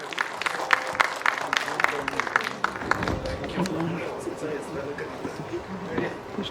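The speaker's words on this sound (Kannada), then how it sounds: "ಜೋರಾದ ಚಪ್ಪಾಳೆಯೊಂದಿಗೆ ಸ್ವಾಗತಿಸಿ ಧ್ರುವ ಸರ್ಜಾ ಅವ್ರನ್ನ" An audience claps and cheers to welcome actor Dhruva Sarja on stage at a film song launch event, dense applause strongest at first and fading, mixed under a loud amplified voice talking.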